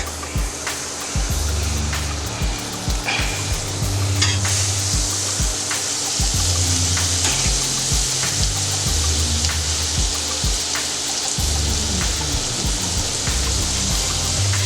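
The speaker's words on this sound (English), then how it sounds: "So I'm adding a little bit of butter to each eye here." Butter sizzles loudly and steadily on a hot griddle for a smash burger, a dense crackling hiss with occasional sharper pops and a low rumble beneath, with no talking.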